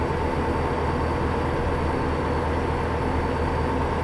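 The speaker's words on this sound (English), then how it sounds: "What a random train." A train rumbles past in the American Truck Simulator video game, a steady, loud, continuous rolling roar of rail cars with no voices.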